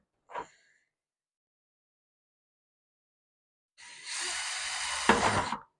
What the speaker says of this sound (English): I'm just going to bring my drill in circular motions like this as I'm drilling